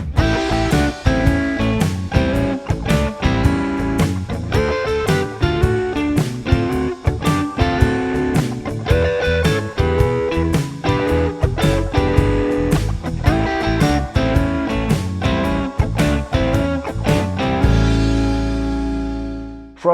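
Electric guitar blues lick played over a full backing track with drums and bass, steady rhythmic groove for most of the passage, then a ringing final chord that fades out near the end.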